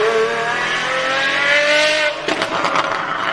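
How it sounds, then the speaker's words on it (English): Apollo IE supercar with straight-cut gears, its loud gear whine rising steadily over a roaring engine, then breaking into rougher, choppier mechanical noise near the end, close and continuous. "the steel cut gears in this thing is so loud."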